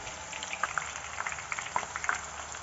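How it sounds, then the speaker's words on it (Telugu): Raw banana slices fry in hot oil, a steady close sizzle with soft bubbling and scattered small pops throughout. "ఇవి బాగా ఫ్రై అవ్వాలి"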